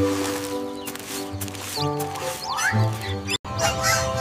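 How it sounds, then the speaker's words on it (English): Cartoon chicks chirp in a busy run of high, quick peeps and rising squeaks, close and lively, over a layer of tonal background music. "The chicks chirp happily as AumSum floats away"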